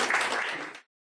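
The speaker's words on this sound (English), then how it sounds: "let's give everyone a round of applause for putting it all together" An audience at a ribbon-cutting ceremony for a library and fitness center at the Heritage Highrise claps in a short burst of applause that cuts off abruptly after under a second.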